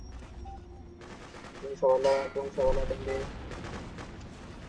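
Gunfire in the video game Freedom Fighters, with bursts of shots and booms rising in the middle of the clip over a steady game background while a voice speaks briefly.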